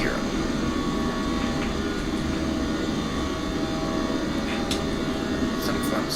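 Airliner jet engines roar steadily at takeoff power in a flight simulator game, a dense continuous rumble with a few faint chirps and clicks over it and speech present at moments.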